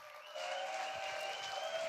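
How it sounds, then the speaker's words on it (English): Audience applause at the Microsoft Excel World Championship finals, a dense steady clatter of clapping hands that swells in after a brief moment and carries on evenly to the end. "Round of applause here."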